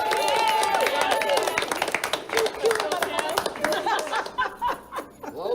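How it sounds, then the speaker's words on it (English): Audience applause at a poker championship final table, a steady burst of clapping that thins out and fades over a few seconds, with some voices and light laughter mixed in. "Please give a round of applause to Kim DeMar."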